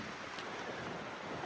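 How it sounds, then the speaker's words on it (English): Steady rain falls outdoors at a coastal lookout along Australia's Great Ocean Road, a continuous dense hiss of drops at even, moderate loudness with no other sounds. "Oh, the rain is coming down there."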